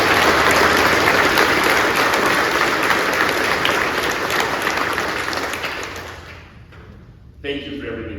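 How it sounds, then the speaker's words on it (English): At a Naval Hospital Jacksonville change of directorship ceremony, a large audience gives loud, dense, sustained applause that gradually fades over about six seconds, followed by a brief quiet and a short sound as it settles. "Round of applause, please."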